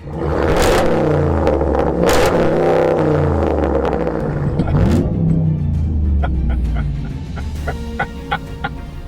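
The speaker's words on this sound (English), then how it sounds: "All right, you may have me on the exhaust note, Andre, but I'm gonna still take you down th" A loud V8 truck engine, a new Jeep Gladiator, roars and revs repeatedly, pitch sweeping up and down, then settles to a lower idle with scattered clicks and knocks toward the end.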